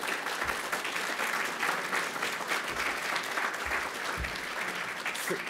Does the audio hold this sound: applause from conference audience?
yes